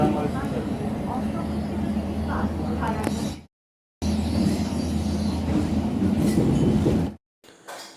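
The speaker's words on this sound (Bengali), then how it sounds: "ট্রেন তখন বিধাননগর রোড স্টেশনে ঢুকছে।" Train entering Bidhannagar Road station, a steady rolling rumble with clanking wheels on rails, cut by two brief gaps, with voices talking over it.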